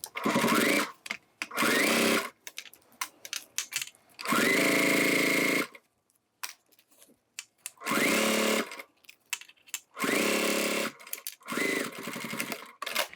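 A sewing machine stitches a thick wristlet strap with a swivel hook, running in several loud, steady bursts separated by short pauses, close up and with no talking.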